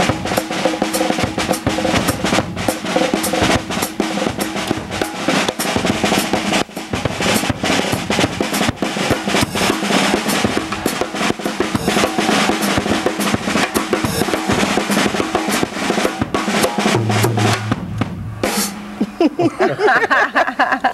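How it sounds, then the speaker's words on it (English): Cajun Zydeco music with second line drumming plays as a dense, full band recording with a steady driving beat throughout, fading near the end. "That was a little Cajun Zydeco music there"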